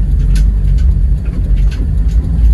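Steady low engine rumble from cars moving in street traffic in Brazil, continuous and fairly close, with no talking over it.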